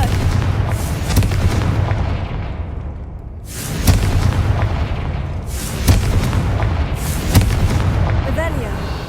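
Confringo blasting spells explode in the Hogwarts Legacy video game. The booms are loud, heavy and repeated, with several big blasts a few seconds apart over a continuous rumbling roar.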